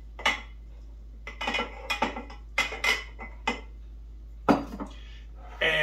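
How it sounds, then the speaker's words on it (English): Oatmeal and coconut are stirred into cookie dough for gumdrop cookies, with a spoon scraping and clinking against the mixing bowl in uneven strokes, close and fairly loud. "Now let's mix in 2 cups of oatmeal,"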